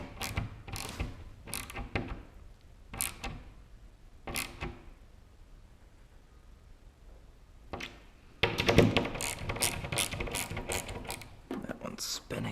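Ratchet clicking in quick bursts while bolts are tightened during an LS engine swap into a Porsche 944, several short spaced runs of clicks followed by a longer, louder continuous stretch of ratcheting near the end.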